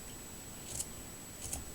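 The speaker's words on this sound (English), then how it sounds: "So you're going to just take your scissors" Scissors cut across a sock at the heel: two crisp snips about three-quarters of a second apart, close and quiet over a faint steady whine.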